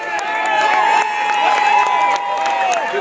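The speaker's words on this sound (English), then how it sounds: "Give them a big round of applause." A stadium crowd cheers and applauds for the 2013 Clearwater Threshers minor league baseball team, a sustained wash of clapping with whistles and shouts layered over it, loud and continuous.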